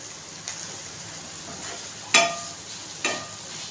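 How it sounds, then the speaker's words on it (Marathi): A dry bean vegetable (ghevda sabzi) is stirred in a pan: a faint low sizzle runs throughout, broken by two distinct scraping clinks of the spoon against the pan, with no talk. "चांगले हलवून घेऊया"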